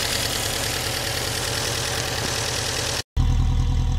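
A car engine idles close by, a steady low rumble that cuts out for a moment before returning.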